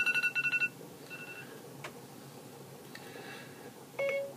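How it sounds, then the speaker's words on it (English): A digital timer is set for five minutes during a home-brewing session for a SMaSH beer: a quick run of short, bright beeps, a couple of isolated beeps, then one final beep, close and clear over a quiet room. "And I need to set the timer for 5 minutes."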